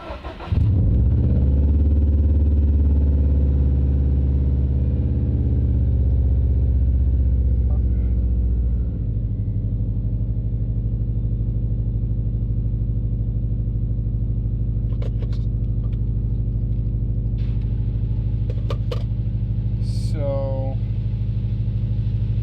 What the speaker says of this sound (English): Let's start the car. It's time.